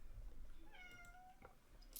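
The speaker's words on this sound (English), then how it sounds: "My cat says, feed me." A hungry house cat gives a single drawn-out meow, close and fairly soft, in a quiet room with no talking.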